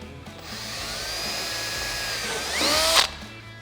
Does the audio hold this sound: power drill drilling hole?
yes